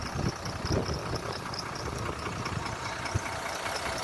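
A 2010 Irisbus Eurorider coach with a Plaxton Panther body and a Euro 5 Iveco diesel engine idles close by, a steady low rumble with faint rhythmic knocking and no talk.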